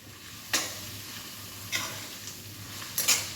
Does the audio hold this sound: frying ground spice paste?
yes